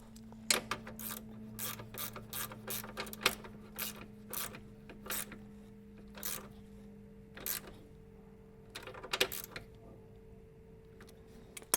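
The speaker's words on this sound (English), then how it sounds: "I prefer to use this socket instead of the Makita because I did break bolts before with it" Ratcheting socket wrench tightening the original 17mm-head bolts on a Mercedes 240D front end, giving bursts of quick, close clicking strokes with short pauses between them, no talking.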